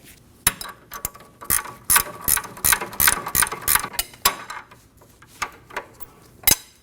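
A hand ratchet clicks rapidly in short bursts while a front lower control arm bolt is run in on a 2008-2015 Scion xB, close and crisp, with pauses between strokes.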